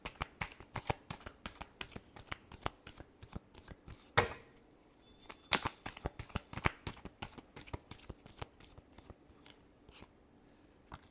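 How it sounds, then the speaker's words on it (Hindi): Tarot cards are shuffled close up in a quick series of crisp riffling snaps and flutters, steady and rhythmic throughout, with one sharper slap partway through and no talk. "Last shuffle."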